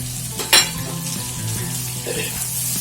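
Chicken with green chillies frying in a pan for egg chicken chow mein, restaurant style: a steady, close sizzle with a brief sharp scrape of stirring near the start and faint clinks of the pan.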